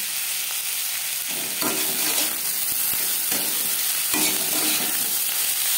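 Potatoes, cauliflower, thinly sliced beans and peas being stirred together in a pan, with a constant frying hiss and rhythmic scraping and tossing strokes every second or so, close by with no talking.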